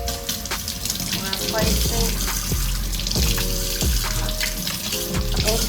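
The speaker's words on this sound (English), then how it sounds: "Wash my mint off." Tap water runs steadily into a sink while mint leaves are rinsed under it, close and fairly loud, with a few soft handling knocks and a brief spoken word over the flow.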